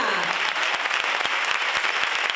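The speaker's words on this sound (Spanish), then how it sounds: "Fuerte aplauso para nuestra chica." Audience applauding for the newly elected youth queen at the 2023 Feria Real de San Roque pageant, steady dense clapping throughout with no break.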